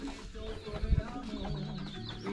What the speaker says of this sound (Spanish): Mira ahí, gallina.